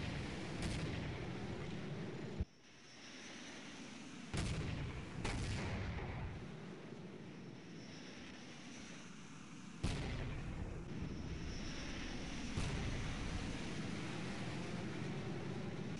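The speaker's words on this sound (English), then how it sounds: "45 seconds later, there will be an airstrike in 2 places, destroying the terrain" Airstrike explosions in Counter-Strike, several sharp booming blasts spaced a few seconds apart over a steady roaring drone, loud and close, with no voices.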